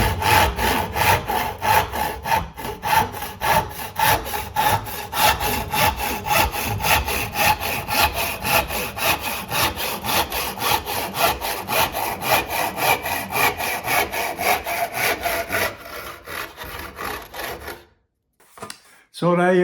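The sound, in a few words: sharpened crosscut saw cutting oak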